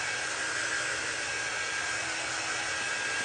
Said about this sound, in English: It just puts out warm air, not hot like a blow dryer, because you don't need hot air.